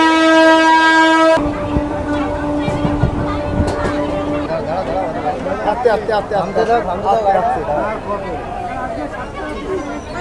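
A local train's horn sounds briefly at the start at a platform during the Thakurnagar Matua Mela, then rumbling rail noise mixes with busy crowd chatter and voices nearby.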